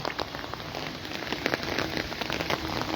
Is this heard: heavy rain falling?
yes